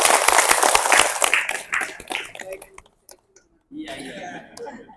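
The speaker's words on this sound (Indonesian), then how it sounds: "Tepuk tangan dulu dong." A gathered audience at an Islamic religious talk claps and laughs briefly, a burst of dense applause that thins out and stops, followed by a quiet gap and then talking.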